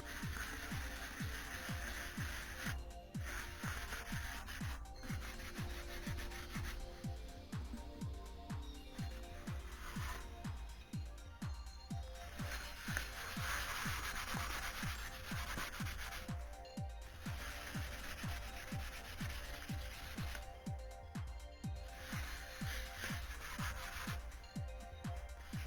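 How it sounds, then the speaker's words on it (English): Steady rhythmic sanding of a 3D printed Darth Vader helmet, quick back-and-forth rasping strokes repeating close to the microphone, with brief pauses between bursts. "Now I'm just sanding it down"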